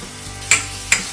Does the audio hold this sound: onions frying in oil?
yes